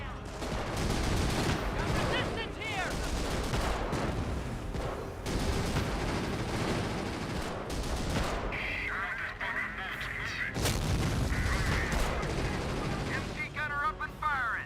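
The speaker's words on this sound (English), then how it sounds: "MG gunner up and firing." Dense machine gun and rifle fire from a Company of Heroes 2 battle, with rapid bursts overlapping artillery-like booms throughout, loud and continuous with no talk.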